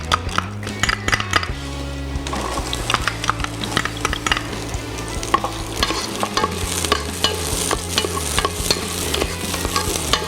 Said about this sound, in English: So when we say Ginisang Monggo, we're going to be sauteing a bunch of vegetables. So we'll start with our garlic and our onion.